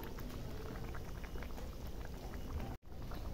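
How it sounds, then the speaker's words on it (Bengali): Chicken boiling in a covered pot over medium heat, a steady soft bubbling and simmering hiss with no talk and a brief dropout near the end. "এটাকে 10 মিনিট মতন আমি ফুটিয়ে নেব।"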